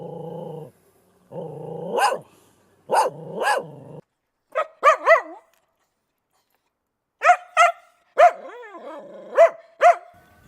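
A dog barks and growls angrily, with low rumbling growls, sharp repeated barks and yips in close, loud bursts separated by short pauses.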